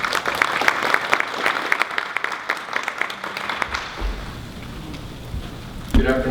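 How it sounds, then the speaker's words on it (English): Conference audience applauding a port company vice president, dense, loud clapping that fades out over several seconds before a voice begins. "Ladies and gentlemen, a big applause for VP Lewis."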